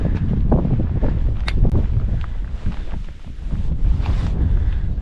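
Strong wind on a cold mountain summit on the Beinn Dearg circuit roars steadily across the microphone, loud and continuous with rough low buffeting gusts and no voices.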